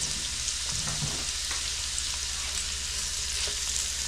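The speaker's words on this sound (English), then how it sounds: "just flash fry this beef" Beef steak flash frying in a very hot pan gives a steady, close sizzle with faint crackles throughout, no voices.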